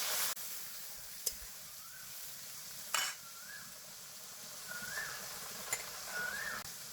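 Spice paste of ginger, onion and cumin sizzles and hisses steadily in a pan after a splash of water, with a few sharp stirring scrapes and bubbling bursts, close and fairly quiet with no talk.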